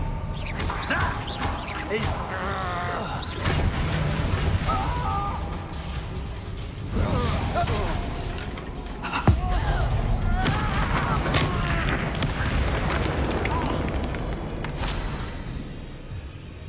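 Spell explosions from Bombarda and Confringo in the game Hogwarts Legacy go off as repeated crashing booms and smashes amid constant clattering combat effects, with voices shouting spell names over the dense, loud mix.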